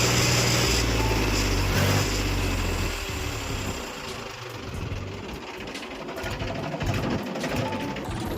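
A Mahindra tractor engine runs steadily nearby, a loud, even mechanical drone that drops slightly in intensity partway through and keeps going without voices.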